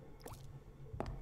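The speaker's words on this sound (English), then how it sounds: "It's the sound of dripping water." Water dripping in the video game SomeDay You'll Return: two soft, hollow plops about three quarters of a second apart, faint and close over a quiet low hum.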